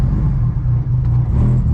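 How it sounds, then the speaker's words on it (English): A car engine runs rough at a stop, struggling to hold idle with a possible vacuum line off the intake manifold, giving a loud low rumble that dips and wavers. "it's not wanting to idle here"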